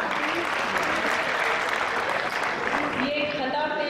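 Loud, dense applause from a seated audience at a Marsiya recitation gathering, steady and continuous throughout, with a faint voice and a few tonal sounds emerging near the end.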